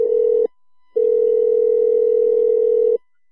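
A telephone ringback tone heard while placing a call, a steady loud electronic tone with a short burst, a brief gap, then a long sustained stretch, with no voices over it.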